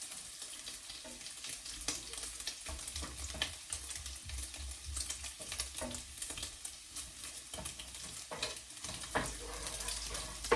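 Bacon fries in a pan, giving off a dense, steady sizzle and spatter with scattered louder pops and some scraping, close and unbroken throughout.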